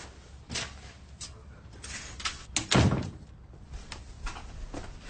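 A door shuts with a dull thunk in a police station office, a single solid close standing out against quiet room tone.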